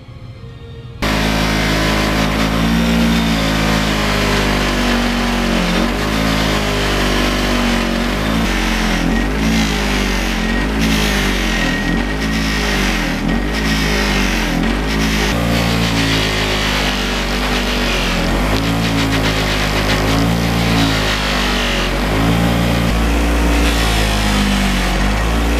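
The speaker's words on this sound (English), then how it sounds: "I want to polish those end caps. And that's usually pretty straightforward on a buffing wheel." Motor-driven buffing wheel polishing motorcycle fork end caps on an FZR restoration, a loud, steady droning hum that runs unbroken with slight wavering as the parts are pressed against the wheel.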